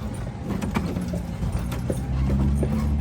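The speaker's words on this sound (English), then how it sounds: "we're being pulled by a 12-year-old French Percheron named Melody" Hooves of a 12-year-old French Percheron mare pulling a carriage along a city street, a close, steady clip-clop on pavement with a faint jingle of harness.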